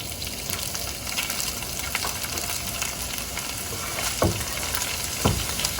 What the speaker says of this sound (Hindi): 2 टेबल स्पून ऑयल डाला और इसमें श्रेड किया हुआ चिकन डाल दिया